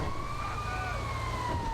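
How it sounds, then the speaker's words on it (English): A wailing ambulance siren in Grand Theft Auto V rises and falls in a smooth sweep, loud and near, over a steady low rumble of game traffic. "Ooh, the ambulance spawned."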